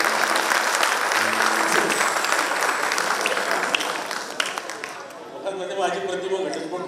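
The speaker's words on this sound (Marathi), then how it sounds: "एकदा परंदासाठी जोरदार टाळ्या होत्या" A seated audience breaks into loud, sustained applause at a stage performance, dense clapping filling the room for about five seconds before thinning out as scattered voices and crowd chatter rise at the end.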